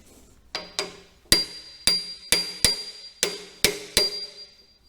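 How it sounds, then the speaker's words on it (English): Impact driver hammering at a stuck screw during a Hofmann Suisse tool grinder rebuild: about nine sharp, metallic ringing blows in an uneven rhythm, close and loud, with a high lingering ring after each hit. "The screw seems to be a bit stuck, so I'm going to use an impact driver."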